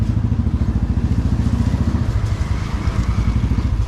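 A new motorcycle's engine putters close by on a highway ride in a rapid, steady thumping rhythm, the ride's rumble continuous with a slight dip near the end.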